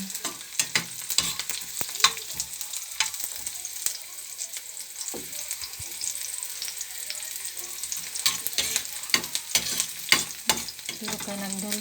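Meat browning in a hot pan for Filipino adobo gives a steady, close sizzle and crackle, with sharp scrapes and clinks from stirring throughout.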